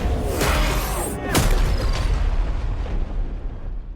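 Deep, heavy booms roll out one after another like incoming shellfire, loud and close, with sharp bursts and a continuous low rumble filling the whole stretch.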